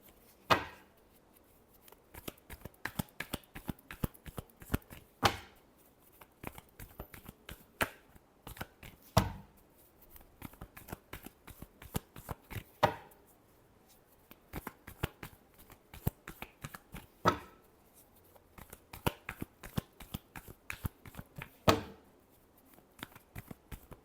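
Tarot cards are shuffled by hand in repeated bursts of riffling and tapping, with short pauses between rounds, close and fairly quiet with no talking.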